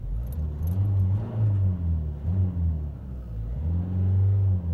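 A car engine with a tuned, remapped setup hums low and rises into a rev to 2000 rpm, holding a steady drone with slight swells, close and fairly loud.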